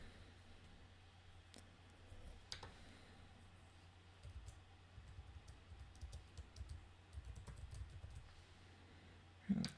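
Quiet, quick keystrokes on a computer keyboard clatter in uneven bursts over a low steady hum, with a soft louder click at the end.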